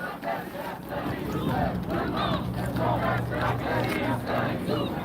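At a street protest against police abuse in Longueuil, a dense crowd shouts and chants in a continuous roar, loud and steady throughout, with no pause in the voices.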